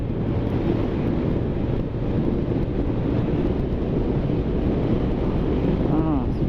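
Steady, heavy wind rush buffets the microphone throughout, a constant low roar from riding a 125cc scooter at speed on an open coastal road, with a faint engine hum beneath.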